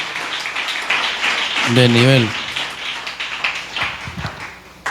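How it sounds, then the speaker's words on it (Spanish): A church congregation applauding during a Spanish-language service, steady broadband clapping that continues throughout while a voice speaks and briefly sings over it. "Aleluya, dele un aplauso al Señor."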